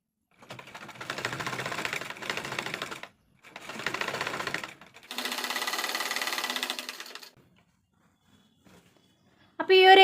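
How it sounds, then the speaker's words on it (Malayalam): A sewing machine stitches the sleeve of a yoke pleated nighty, running in four steady whirring bursts separated by short pauses, close and fairly loud, with a brief clatter at the very end. "ഇനി സെൻറ്ററിൽ നിന്ന് രണ്ട് സൈഡിലേക്കും അങ്ങ് സ്റ്റിച്ച് ചെയ്ത് പോവാം കേട്ടോ"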